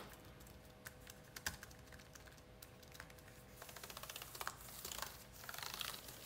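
Someone types on the keyboard of a Gigabyte Aero 15X laptop. The key taps are soft and stiff, and they come in scattered presses before picking up into quicker, denser bursts of clicks, close but quiet.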